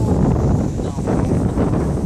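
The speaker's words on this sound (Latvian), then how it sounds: "Kāpēc vējš ir tik stiprs?" Strong wind in an open area buffets the microphone in a steady, heavy low roar, with no break.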